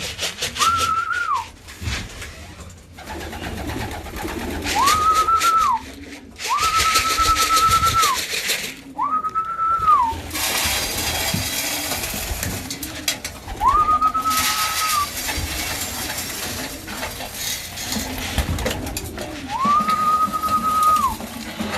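Racing pigeons in a loft coo in repeated low, rolling phrases while being fed, with shrill whistled notes at intervals and rustling and scraping close by throughout.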